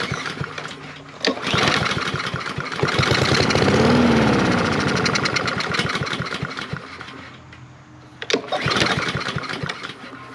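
A small engine primed with brake cleaner and fed cheap vodka as fuel cranks repeatedly with a rapid, loud rattling chug, briefly sputters and revs, then drops and cranks again, close by with no speech.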